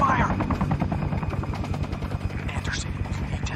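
Rapid rotor thumping from an enemy helicopter in the video game Sniper Ghost Warrior pulses steadily and loud, overlapped by a shouted voice.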